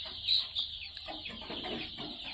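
Chicks peeping and hens clucking at a poultry farm selling Sonali, local and broiler chicks, with shrill high chirps at first and then quieter, scattered clucking.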